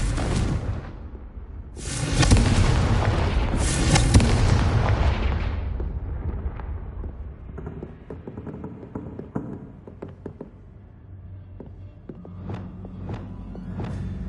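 Confringo blasting curse from Hogwarts Legacy, a loud booming explosion followed by a second blast, then a long rumbling decay fading into faint scattered clatter and low tones.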